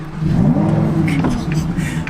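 A car engine fires up and revs, a loud, steady mid-pitched roar that rises and falls slightly over two seconds, close to the listener, with a voice speaking over it.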